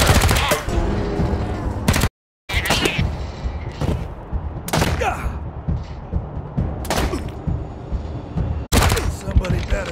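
Gunfire in the video game Wasteland 3 comes in sharp, loud bursts of rapid shots separated by brief pauses, with combat voices under and between the volleys.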